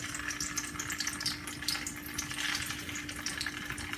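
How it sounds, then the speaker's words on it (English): Corn sticks (sorullitos) sizzle and bubble steadily in plenty of hot oil, a continuous crackling fry with small pops, close up and with no talking. "now that they're bubbling like this"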